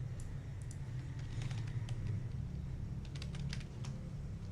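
Keys tapped on a computer keyboard while entering a command into a VMware virtual machine, with light, irregular clicks in short bursts over a steady low background hum, fairly quiet and with no one speaking.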